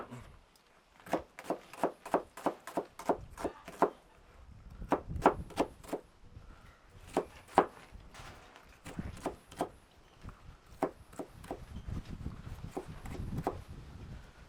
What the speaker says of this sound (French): Je vais couper mon oignon en petits morceaux.